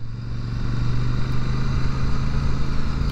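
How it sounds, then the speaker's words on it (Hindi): A Royal Enfield Super Meteor 650 motorcycle is being ridden, and its exhaust gives a loud, steady, throaty drone. A low pulsing engine note runs through the whole short stretch. "इसका जो एग्जॉस्ट का साउंड आ रहा है ना, बहुत ही खूबसूरत साउंड आपको यहाँ पर सुनने को मिलता है।"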